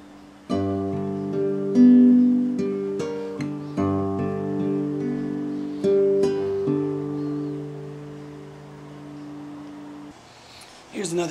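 An acoustic guitar plays a tune in fingerpicking style, with a plucked bass line under a bright melody in close, clear detail. A short rustle follows at the end.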